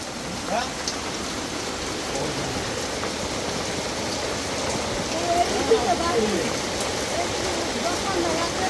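Steady rain falls outdoors in a village as a continuous broadband patter. It holds even throughout, with voices talking faintly in the background.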